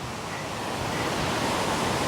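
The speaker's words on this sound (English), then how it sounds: "Oh, the water is going there. It's falling down to form a waterfall." Water rushes steadily down Kanthanpara waterfall in Wayanad, a loud, continuous broadband roar with no pauses and no voices over it.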